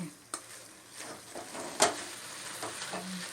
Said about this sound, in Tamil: இந்த மாதிரி நல்லா வதக்கி எடுத்துக்கணும்.